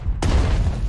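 Boom from in-game artillery or an explosion in the Pacific war strategy game Strategic Mind: The Pacific, a sudden heavy blast after a brief quiet moment, then a rumbling tail, with no talk.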